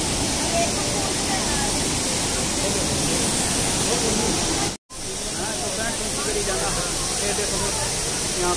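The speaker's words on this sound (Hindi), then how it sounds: "ये देखो भाई ये झरना है" Bhatta Fall in Mussoorie pours with a dense, continuous roar of rushing water close by, loud and unbroken apart from a brief cut, while people talk over it.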